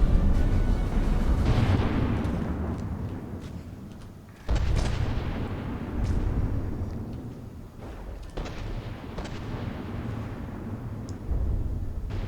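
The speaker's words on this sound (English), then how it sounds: "There's a huge detonation." A huge warship turret detonation in a naval combat video game: several heavy booms spread across the stretch, each with a long rumbling decay, loud and close, with no talk.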